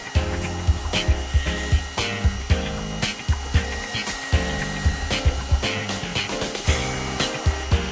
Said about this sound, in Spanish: te presentamos el cepillo giratorio de aire caliente One Step